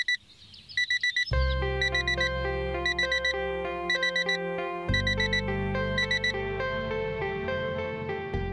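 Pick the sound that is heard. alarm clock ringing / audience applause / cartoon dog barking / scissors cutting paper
alarm clock ringing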